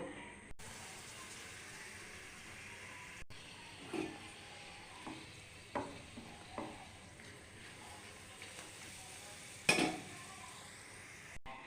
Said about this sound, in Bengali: এবার একটু পাঁপড় ভেজে নেব